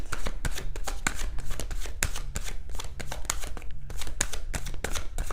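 Rapid, crisp riffling and flapping of a tarot deck being shuffled by hand, with quick repeated bursts of card snaps close up and no talking.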